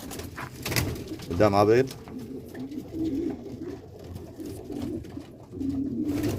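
French meat pigeons coo in a loft in Damietta, with a clear rolling coo near the start and softer cooing and shuffling afterward, heard under someone speaking Arabic.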